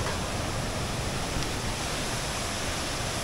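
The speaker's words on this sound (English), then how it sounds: "It's like a twin waterfall, two of them." A small waterfall near Aling-Aling in Bali, part of a twin cascade, pours in a steady, even rush of falling water, heard alone with no voices.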